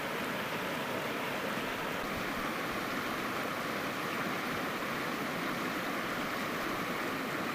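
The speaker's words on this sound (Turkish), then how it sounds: "Karecik köyünde yer alan 9 ayrı kaynak suyunun aktığı gözeler gezginlerin rotasında yer alıyor." Spring water from nine springs near Kalecik village, which feed the Girlevik waterfall, rushing and gurgling in a steady, continuous outdoor flow with no voices.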